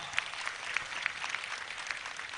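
Crowd clapping at a Gujarati devotional folk gathering honoring a singer, a brief burst of many hands with a few sharper claps poking out of the steady patter.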